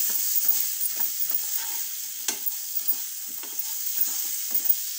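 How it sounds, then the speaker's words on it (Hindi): Potatoes with spices and cumin seeds are stirred in a pan, a bright steady sizzle under repeated light scraping strokes of a spoon against the pan, close and without speech. "इसको हम मसाले के साथ अच्छे से मिक्स कर लेंगे"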